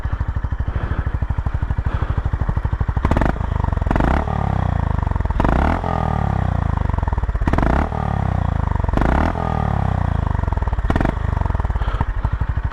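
Honda GB350S single-cylinder motorcycle exhaust while riding, picked up by a helmet cheek-pad microphone: a low, steady thumping engine note that rises and settles with throttle changes, broken by several short bursts of wind or gear-shift noise.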